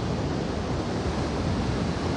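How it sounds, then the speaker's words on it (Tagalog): Steady loud rush of big surf at San Juan, La Union, a broad continuous roar of breaking ocean waves with wind noise, no voices. "Ang laki ng alon oh."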